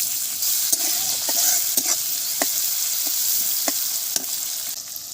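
Onion and garlic fry in oil with cumin tempering, a loud, dense sizzle close by, punctuated by repeated spatula clicks and scrapes against the pan, with no voices.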